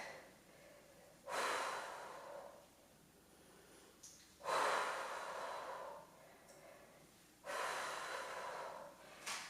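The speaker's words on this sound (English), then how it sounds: "Exhale on the kick back." Three strong, breathy exhalations at steady intervals of about three seconds, each a broad rushing puff that fades out, produced during a dumbbell kick-back in an upper-body strength workout, with quiet room tone between them.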